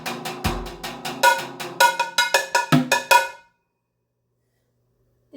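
A ride cymbal on a drum kit is struck in a quick run of bright, ringing pings, some with a low drum hit underneath, then cut off into silence.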